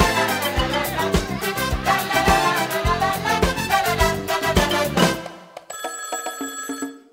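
A telephone rings with bright, steady electronic tones as a loud music passage cuts off, heard near and alone on a 1990 French-language LP comedy recording.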